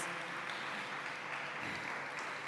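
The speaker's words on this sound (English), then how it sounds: "give him another round of applause" Audience applause at a university community service expo during welcome week, a continuous, even patter of many hands clapping at moderate distance with no break.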